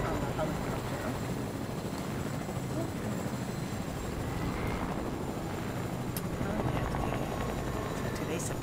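A steady, droning helicopter rotor hum from the video game Fortnite fills the whole stretch at moderate volume, with no clear voices over it.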